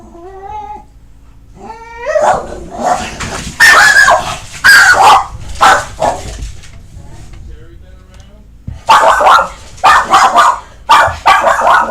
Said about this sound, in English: The dog's going nuts.